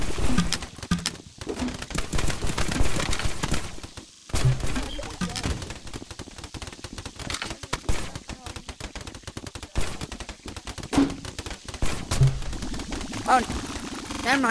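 Rapid video game gunfire rattles in dense bursts through most of the stretch, with a brief gap early on, while players shout and talk over the shooting.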